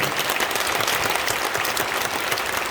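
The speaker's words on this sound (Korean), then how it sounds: "대통령님께 박수 한번 해드리면 고맙겠습니다" A church congregation at a memorial service for war veterans claps together, a thick, even burst of many hands held steady throughout, with no voices standing out above it.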